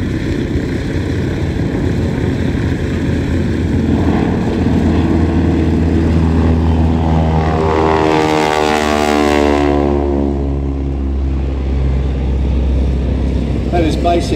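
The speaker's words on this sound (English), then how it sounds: "Listen to the sound of the Harvard as it goes past." A North American Harvard aircraft flies past with its propeller tips going supersonic, a harsh, rasping drone that builds to a loud, close peak before receding, with a distinct pitch shift as it passes.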